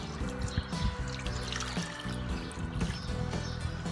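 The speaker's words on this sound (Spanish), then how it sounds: "Cuando la tengamos homogénea, la vamos a cubrir con agua templada." Warm water is poured over sourdough starter dough in a bowl, a steady close trickle and splash running continuously at low volume.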